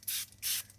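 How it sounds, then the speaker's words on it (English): Two quick hissing bursts from a spray bottle misting water onto watercolour paper, close and soft, each lasting about a fifth of a second. "So let me spray a little bit"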